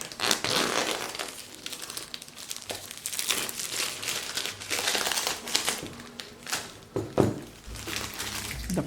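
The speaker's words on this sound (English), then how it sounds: "The plastic is off." Plastic wrap is peeled and crumpled off a OnePlus 7 phone box, Mirror Grey 6GB+128GB model, giving a continuous close crinkling and crackling with sharp crunchy bursts and a few soft thunks throughout.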